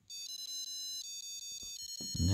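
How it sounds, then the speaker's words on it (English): A 1981 Zeon 007 James Bond digital watch plays its melody as a thin, high electronic beeping tune in quick steps, faint and close, ending with a short handling bump. "And there's your James Bond melody."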